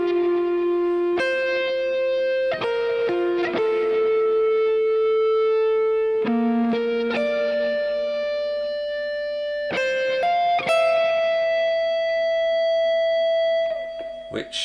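Electric guitar played clean with slight effects, sustained single notes held flat without vibrato, a slow sequence of plucked tones ringing out one after another, close and alone.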